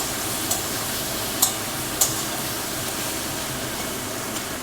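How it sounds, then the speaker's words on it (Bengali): Prawns fry in a wok with a steady, even hiss of oil, and a few faint ticks and clinks come through the sizzle. Nobody talks. "ওধারে চিংড়ি মাছটা ভাজা হচ্ছে"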